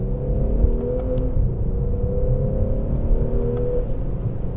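Infiniti G37 coupe engine revving in manual mode, heard close and loud as a steady droning growl with smooth rising and falling pitch and no talk.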